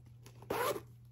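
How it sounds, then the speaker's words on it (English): A handbag zipper being opened and closed on a crossbody bag, one quick loud zipping pull close to the mic, alone with quiet room tone around it. "Zipper works fine."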